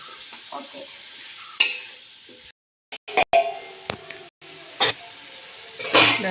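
Tomato, onion and green chili sizzle in a pan while being stirred, with intermittent scraping strokes and crackling bursts over a soft steady hiss, with brief silent gaps and no talking.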